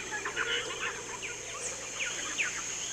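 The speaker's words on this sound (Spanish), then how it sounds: "podemos escuchar entremezclados los gritos de los monos, trinos de pájaros y reclamos de todo tipo" A lively dawn chorus in the Pacaya Samiria rainforest of Peru: birds trill, chirp and whistle in overlapping bursts over a steady insect-like hiss, with no clear monkey calls standing out.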